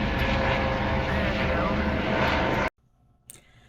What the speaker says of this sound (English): Here comes the second Dolphin helicopter.